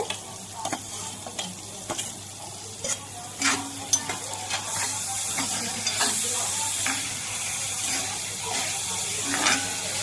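Garlic, green chilli, onion and tomato fry in oil in a hot kadhai, with scattered clinks and scrapes of stirring at first, then a louder, steady sizzle building up, close by.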